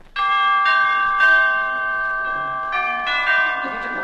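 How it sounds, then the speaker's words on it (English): A doorbell sound effect from a 1949–1953 Martin and Lewis radio comedy show rings as bright, sustained chime tones. Several overlapping dings repeat across the clip, loud and clear, with no talking. "Well, I'll ring the bell."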